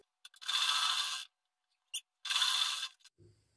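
A sewing machine runs in two bursts of rapid stitching along a princess-cut blouse seam, each lasting about a second and separated by a short pause and faint mechanical clicks.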